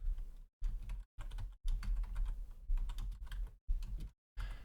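Computer keyboard typing in quick, steady bursts of clicking keystrokes separated by brief silent pauses, close and quiet with no talking.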